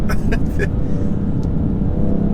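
BMW M3 Competition accelerating hard, its engine a dense, loud roar with abrupt thuds from quick gear shifts breaking the pull near the start.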